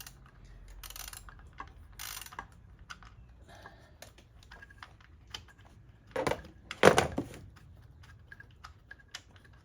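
Ratchet clicks from loosening a spark plug deep in a BMW X1 engine bay: a few brief bursts of mechanical clicking, then a louder, closer burst of ratcheting and metal handling near the end, with no one speaking.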